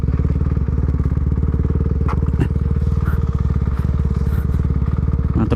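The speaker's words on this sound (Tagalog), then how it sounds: "narinig niya daw yung tunog ng motor ko" A motorcycle engine runs close and loud with a steady rapid throb, broken by a few brief knocks and clatters.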